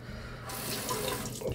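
Water gushes steadily from a bathroom tap onto an alum shaving block, starting abruptly and running loud and close as a continuous splashing hiss with no talking.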